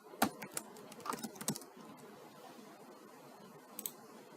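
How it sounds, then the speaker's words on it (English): Faint, close keystrokes on a computer keyboard as a password is typed, a few quick clusters of clicks at the start and end with quiet pauses between. "type in your password and click Sign In"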